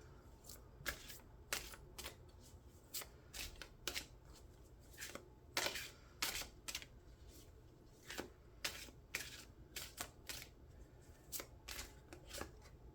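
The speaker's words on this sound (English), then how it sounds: "let's get some oracle cards for you" A deck of oracle cards shuffled by hand during a tarot-style reading, giving repeated crisp riffling and flicking bursts in an irregular rhythm over a quiet room, close and fairly soft with no talking.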